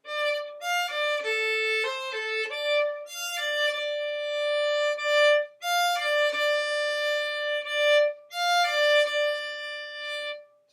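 Solo violin plays a lyrical passage from a piece around measure 45, bright sustained notes with clear pitch changes in short phrases separated by brief pauses, close and alone.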